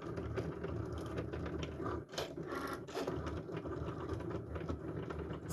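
A Cricut machine cuts a sticker sheet with a continuous mechanical whir, and faint ratcheting and clicking come from its moving parts. The sound is steady and quiet, heard alone without talk.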